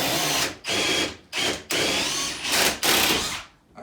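A power drill fitted with a drill bit bores up into a ceiling in repeated bursts, about five loud whirring runs separated by short pauses, close to the microphone with no talk.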